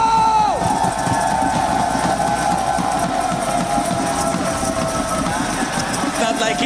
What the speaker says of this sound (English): we do have quite a bit of crowd presence